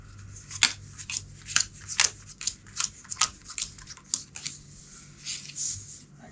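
Deck of game cards being shuffled by hand during a solo tabletop game, a series of crisp riffling and snapping bursts in an uneven rhythm, close and fairly quiet with no talking.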